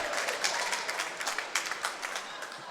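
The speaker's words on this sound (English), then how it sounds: "you need to start saving your applause for when she actually does something" Crowd applause fills a women's basketball quarterfinal gym, steady, dense clapping from many spectators with small surges of louder claps throughout, close and continuous.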